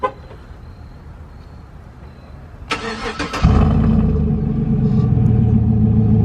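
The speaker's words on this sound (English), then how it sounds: "I want to give you guys a cold start up of what the exhaust sounds like now" A 2014 Chevrolet Silverado pickup cold-starts, cranking and catching at once, then settles into a loud, steady, deep straight-piped exhaust rumble that continues close by.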